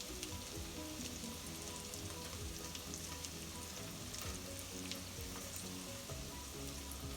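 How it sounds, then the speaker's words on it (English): Perogy dough pieces fry quietly in a pan, giving a soft, even, continuous sizzle like light rain, faint and steady with no other sounds. "So my dough pieces are starting to brown up in the bottom a bit now."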